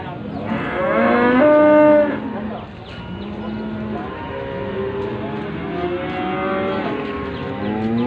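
Cattle moo loudly several times, long drawn-out calls close by, over the murmur of the busy Muntilan livestock market.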